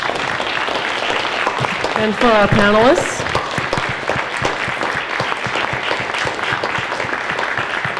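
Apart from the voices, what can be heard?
audience applause for panelists and hosts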